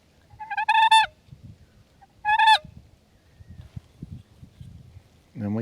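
A turkey pot call with an aluminum striking surface gives two short, raspy, high yelping bursts, separated by soft scuffing handling noise, with a third call starting at the very end.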